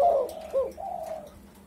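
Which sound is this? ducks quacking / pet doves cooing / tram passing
pet doves cooing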